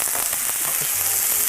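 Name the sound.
onions frying and being stirred for Peruvian locro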